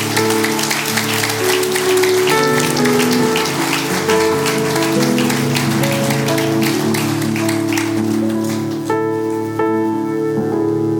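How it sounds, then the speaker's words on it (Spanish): A church congregation applauds loudly and continuously, a thick wash of many hands with sustained music playing beneath it before it thins out near the end. "Dale fuertes aplausos a Jesús."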